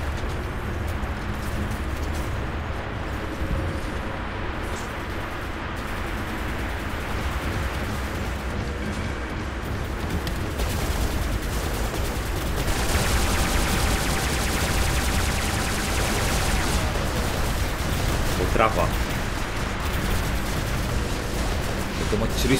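Gunfire from the War Robots game on PC pounds without a break, dense and loud, with booming artillery-like blasts and rapid bursts blended into constant battle noise.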